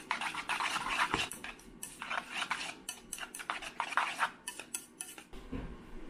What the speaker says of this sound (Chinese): 那么用筷子呢把这个搅拌均匀。